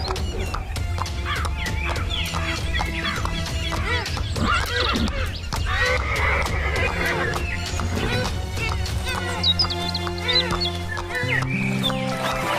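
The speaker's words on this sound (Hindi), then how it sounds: "राजा अपने घोड़े पर सवार होता है और जादुई तालाब की तरफ रवाना हो जाता है।" A cartoon horse whinnies and neighs repeatedly as its king rider sets off toward a magic pond, hoofbeats clip-clopping steadily beneath music and sound effects.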